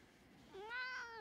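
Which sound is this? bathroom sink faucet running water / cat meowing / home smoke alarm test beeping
cat meowing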